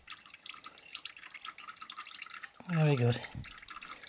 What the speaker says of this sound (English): Empty the oil canister out into the receptacle.